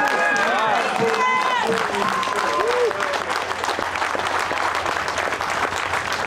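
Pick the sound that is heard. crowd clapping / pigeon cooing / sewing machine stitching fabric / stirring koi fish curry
crowd clapping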